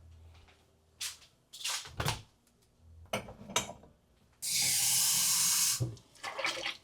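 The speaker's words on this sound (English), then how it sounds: "get a cup, my favorite cup, and fill it with hot water" Hot water pours into a cup in a brief, loud rushing burst of a little over a second, preceded by clinks and knocks of handling the cup, all close and without talk.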